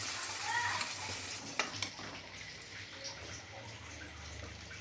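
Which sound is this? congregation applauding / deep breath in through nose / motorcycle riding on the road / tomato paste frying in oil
tomato paste frying in oil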